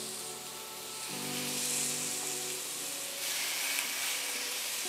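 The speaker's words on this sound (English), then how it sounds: "you want to do a you know a nice sear for about two minutes, two to three minutes on each side" Chicken thighs sear in olive oil heated to its smoke point, a steady close hiss and sizzle that swells slightly partway through and keeps going without pause.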